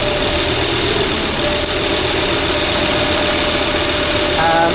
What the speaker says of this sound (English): you can hear the change in the engine